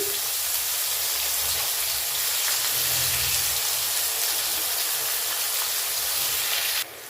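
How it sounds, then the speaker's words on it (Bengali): Onions frying in hot oil with cumin for Bengali-style mutton kosha give a steady, close, dense sizzle that holds evenly throughout, with no talking. "এবার আমি পেঁয়াজ দিয়ে দিচ্ছি।"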